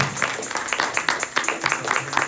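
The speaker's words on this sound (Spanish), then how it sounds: "den un fuerte aplauso al Señor" Church congregation applauding during a Spanish-language sermon on unity: dense, steady clapping from many hands filling the room, close and lively, with voices mixed in.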